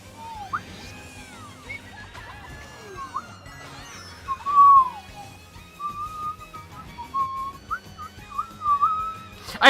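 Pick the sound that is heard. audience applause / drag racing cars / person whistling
person whistling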